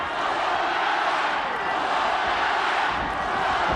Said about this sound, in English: crowd really getting into this one